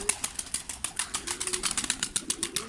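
Rapid, rhythmic flapping of pigeon wings as birds take off, a steady beating flutter close by.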